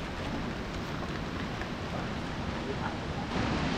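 Steady rain falling in a forest, a dense close hiss that stays even throughout with no clear gaps.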